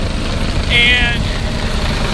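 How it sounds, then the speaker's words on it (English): A helicopter passes overhead near Enchanted Rock outside Fredericksburg, Texas, with a bag hanging beneath it. Its steady broad rotor-and-engine roar fills the air, and a brief high whine cuts through midway while a voice speaks faintly. "the helicopter, I noticed, looked like they had a bag hanging from it"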